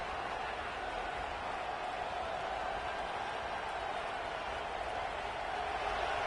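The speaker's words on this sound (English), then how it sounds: "This crowd bringing the energy and noise early." Steady roar of a large stadium crowd at a college football game between Kentucky and UCLA, a continuous broadband wash of massed voices holding at an even, fairly loud level throughout with no distinct individual speech.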